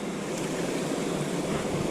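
Rushing water of a mountain river, the West Carson running high and raging, fills the whole stretch with a steady, dense broadband roar that is loud and close, with no voices.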